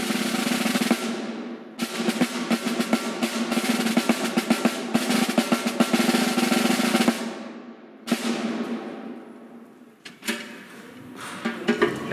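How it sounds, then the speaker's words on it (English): Snare drum with the snares engaged is played in sustained buzzy rolls and rattling strokes, a dense crisp wash that cuts off abruptly a few times and ends in scattered hits. "As soon as I put the snares on, they have a little different sound."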